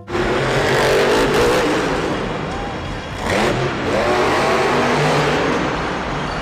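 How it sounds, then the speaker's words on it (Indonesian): Loud, close engine revving plays steadily from a toy monster truck, a continuous roaring motor sound with slight rises and dips and no pauses. "Mobil truk monster, teman-teman."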